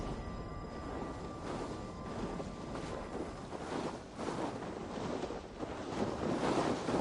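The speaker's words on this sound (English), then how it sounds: "Storm coming." Stormy wind and rough sea waves in Assassin's Creed Valhalla, a continuous roaring gust-laden wash that swells louder toward the end, heard without speech.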